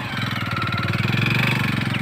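A motorcycle engine chugs steadily at low speed as it is ridden carefully along a narrow track beside a canal, with an even, rapid pulsing putter heard close and moderately loud.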